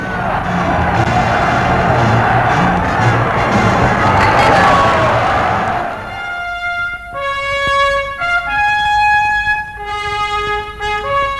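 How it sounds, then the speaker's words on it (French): A large French crowd cheers and roars for Charles de Gaulle on Victory Day, 8 May 1945, loud and dense for about six seconds before giving way to music. "la France reconnaissante acclame en ce jour de victoire, Charles de Gaulle"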